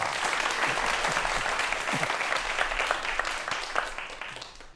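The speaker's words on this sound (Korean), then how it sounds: "다시 한번 박수 부탁드리겠습니다." Studio audience applause on a Korean science television talk show, a dense, even round of clapping that holds steady and then tapers off toward the end.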